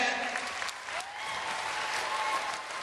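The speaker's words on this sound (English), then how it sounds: "Let's clap about that." Children at a school assembly clap together in a brief, bright burst of applause, dense and steady, with faint voices and a squeal or two rising over it.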